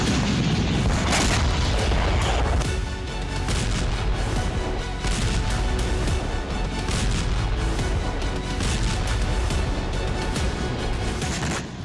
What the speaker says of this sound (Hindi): गैस स्टेशन पर धमाके से कई गाड़ियों में आग लग गई।